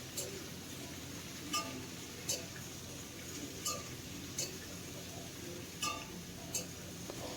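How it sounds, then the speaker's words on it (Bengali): Mixed vegetables with water spinach fry in a pan over a high gas flame, a steady broadband sizzle with light, regular clinks of a spoon against the pan every second or so. "এখন গ্যাসের ফ্লেমটা বাড়িয়ে দিয়ে সবজিগুলোকে 4-5 মিনিট এইভাবেই ভেজে নেব।"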